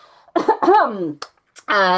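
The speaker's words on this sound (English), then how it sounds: "Excuse me, I'm going to cough." A few harsh coughs from one person, close and fairly loud, with short gaps between bursts and a rough, voiced throat sound at the end.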